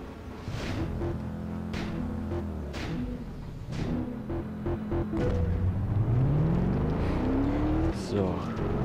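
A car engine hums and revs through shifting gears in the racing game Test Drive Unlimited 2, rising steadily in pitch toward the end, loud and close with someone talking over it.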